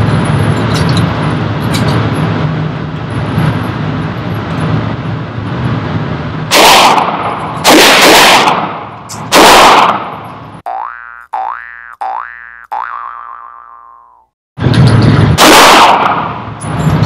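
CZ 75 P01 Omega pistol firing Blazer Brass 124 grain rounds at an outdoor range, with several loud, sharp reports spaced a second or more apart and odd ringing tones in a quieter gap between them.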